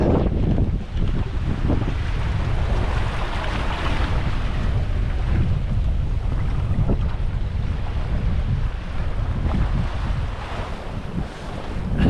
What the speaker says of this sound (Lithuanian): Dar kol kas vėjas nerimsta, viskas okei.